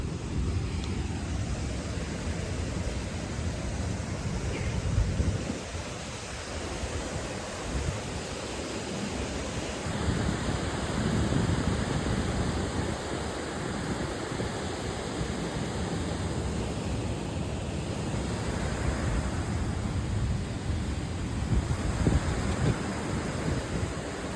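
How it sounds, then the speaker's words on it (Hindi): Jog Falls, a large waterfall in a forested gorge, roars as a broad, steady rush of falling water, constant and fairly even throughout with no talking. "दोस्तों आज हम करीब से आपको दिखा रहे हैं जोग जलप्रपात।"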